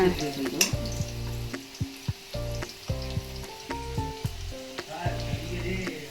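Tomato chutney ingredients frying in a pan until golden brown; a steady sizzle with repeated stirring scrapes and clicks, alongside sustained tonal sounds.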